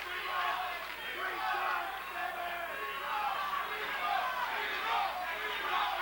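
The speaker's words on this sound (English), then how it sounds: "And now a chant of Primo." A crowd at a professional boxing match chants a fighter's name in a steady repeated rhythm, loud and sustained throughout, with a commentator speaking over it.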